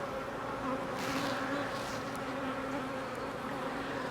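Honey bees buzz steadily around an open hive colony, a dense continuous hum close by with faint passing buzzes over it and no talking.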